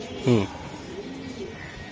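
Racing pigeon gives one short, close coo, followed by a faint softer coo over quiet background.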